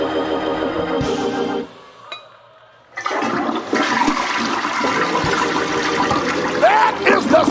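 A loud toilet flush played as a sound effect, a gushing rush that drops out briefly, then surges back into a long roaring swirl of water to the end.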